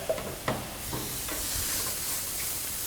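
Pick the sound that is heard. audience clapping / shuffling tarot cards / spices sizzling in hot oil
spices sizzling in hot oil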